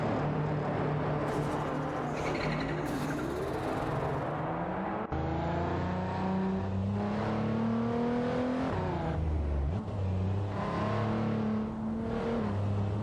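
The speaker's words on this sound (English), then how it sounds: "automobile dashing away" A race car in a racing video game accelerates away, its engine whining and rising in pitch through gear changes, fairly loud and sustained with shifting tones, no speech.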